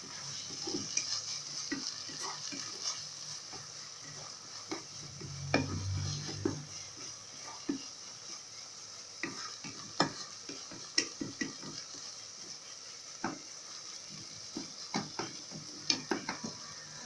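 Bulgur and turmeric fry in a pot with a quiet, steady sizzle while a utensil stirs and scrapes, giving scattered clicks and taps against the metal and a brief louder rustle of shifting grains.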